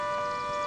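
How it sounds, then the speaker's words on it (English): A steady, sustained factory siren tone holds level for a brief moment, even and unwavering, in Sohra, Meghalaya. "That siren normally comes from the factories."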